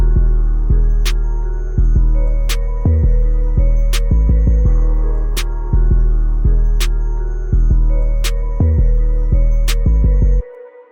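Dark trap beat built in FL Studio, with deep booming 808 bass hits, crisp rhythmic percussion snaps and a sustained melody over them, loud and upfront, with no voices.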